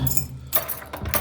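Keys jangle close by in bright metallic bursts, rattling in several shaken clusters during a locksmith's lockout job.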